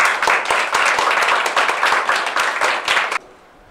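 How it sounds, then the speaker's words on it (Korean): A ceremony audience applauds, many hands clapping together in a steady, dense burst for about three seconds before it stops abruptly, with no talk over it. "박수 부탁드립니다"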